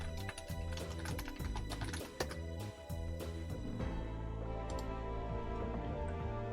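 Rapid clicking keystrokes on a computer keyboard, close and crisp in uneven bursts, with a low steady hum running underneath and no speech.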